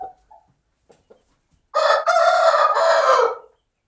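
A rooster crowing once, loud and close, in a long drawn call after a few faint clucks.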